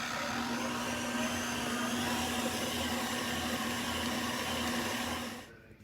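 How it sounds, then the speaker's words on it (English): An electric mixer whirs steadily through lemon blueberry cake batter tinted with yellow food coloring, a loud even drone that holds for several seconds before cutting off at the end. "Mix this in until it's well combined"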